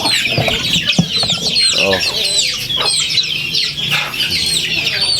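Native chickens cluck continuously at close range during morning feeding on a small farm, a loud, busy layering of clucks and calls with a few sharper squawks.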